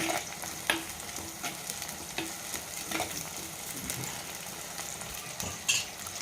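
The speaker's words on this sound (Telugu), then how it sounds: "బాగా ఎర్రగా వేగాలి ఉల్లిపాయలు సగం బడ వేగిన తర్వాత పచ్చిమిరపకాయలు వేసుకుందాం" Onions and green chillies sizzle steadily in a hot pan while a utensil scrapes and stirs them at intervals, with occasional metallic clinks over the constant frying hiss; no one speaks.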